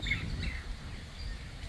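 Birds chirp and sing intermittently in the distance over a soft, windy outdoor background at Queen's Park, Maryborough.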